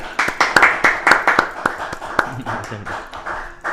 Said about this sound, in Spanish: Y lo recibimos con un fortísimo aplauso a Diego Sosa.